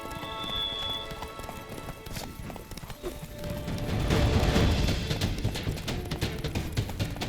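Hooves of a horse in The Witcher 3 video game clip-clop in a steady walking rhythm, fairly close, growing louder and busier toward the end over faint game ambience.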